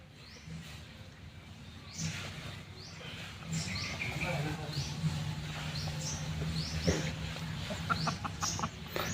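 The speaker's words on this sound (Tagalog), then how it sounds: "Dami mo palang mga manok" Chickens on a farm cluck and squawk repeatedly in a busy, overlapping chorus at moderate distance, over a steady background hum and occasional voices talking.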